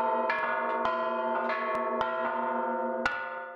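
A 100-kilogram church bell, cast by bell artisans in Tizapán, Hidalgo, Mexico, rings in a series of bright metallic strikes at an uneven pace, each leaving a long shimmering hum beneath the next.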